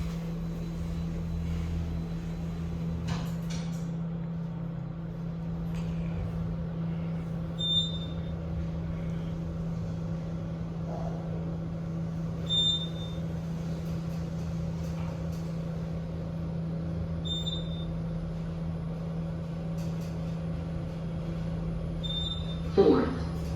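Otis Gen3 elevator car with stainless steel interior travels upward, a steady low motor hum with faint periodic chimes at floor passes, quiet and continuous throughout.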